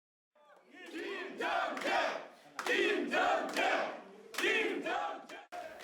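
Supporters cheering a newly elected three-term National Assembly member in Pohang on election night, loud bursts of shouting and chanting from a crowd in repeated swells with short gaps between them.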